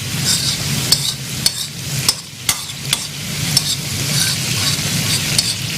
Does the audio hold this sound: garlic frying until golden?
yes